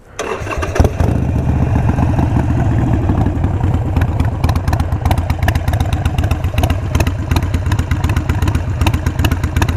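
A Harley-Davidson Iron 883 motorcycle with an autotune problem cranks and fires, then settles into a loud, close, lumpy V-twin idle with a steady uneven throb.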